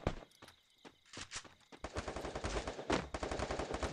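Rapid gunfire bursts from the Free Fire mobile battle game, sharp shots close by, sparse at first and then a dense rattling stream of automatic fire.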